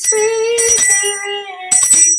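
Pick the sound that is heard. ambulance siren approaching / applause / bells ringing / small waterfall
bells ringing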